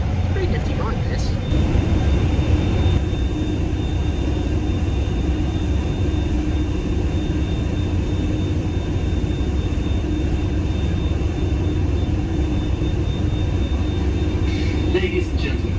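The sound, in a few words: hovercraft ride across the Solent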